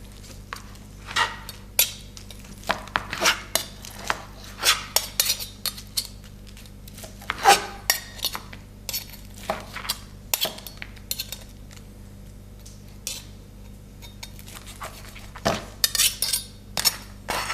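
A knife cuts grilled chicken for fajitas on a board, with sharp scattered clicks and scrapes of the blade and the clink of utensils, irregular and fairly close, with quiet gaps between strokes.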